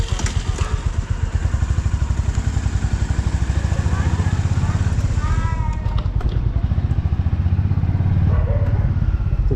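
A motorcycle engine putters at the start of a Kolkata to Nepal bike ride, a close, steady idling thump with clattery mechanical texture and brief revs, with people talking over it.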